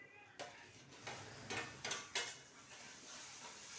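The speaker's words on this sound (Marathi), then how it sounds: "छान एकत्र फिरवून घेते मी टमाटे वगैरे" Tomatoes being stirred in a pan with a spoon, several faint scraping strokes against the metal over a soft low sizzle.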